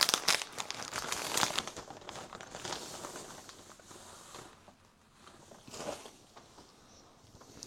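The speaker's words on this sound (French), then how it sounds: "commencer ce début de semaine avec un colis à ouvrir" Packaging crinkles and rustles as a parcel is opened, with a dense, busy burst of crackling at the start that tapers into softer, intermittent rustles and a brief flare near the end, close and fairly quiet.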